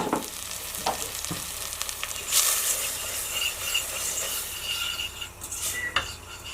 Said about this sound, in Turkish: Şimdi unu birazcık kavuralım.